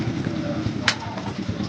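Racing pigeon cooing close by in a loft before a race, soft repeated low coos with a brief brighter flutter or call in the middle, over steady background noise.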